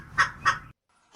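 A rooster sound effect in a Korean folk tale narration, two quick loud clucking calls in close succession followed by a brief fainter call, with no speech over it.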